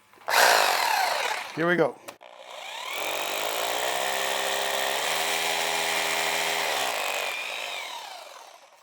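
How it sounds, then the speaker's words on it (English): A power drill bores holes for 3/16 Tapcon screws while sliding door guides are mounted, whirring steadily for several seconds after a brief spoken word and some handling noise. "We're going to screw one side down so it doesn't move, then drill the other side"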